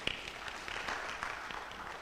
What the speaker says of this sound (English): A round of applause to Mr.